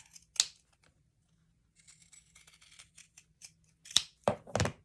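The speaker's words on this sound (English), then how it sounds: "Now I'll cut this out with my pinking shears." Pinking shears cut through fabric for a small patchwork angel ornament, giving close, crisp snips and a run of soft crunching blade strokes, quiet overall with short pauses between cuts.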